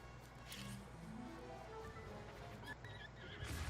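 A horse in The Legend of Zelda: Breath of the Wild whinnies while its hooves clip-clop steadily, the game sounds quiet and faint throughout.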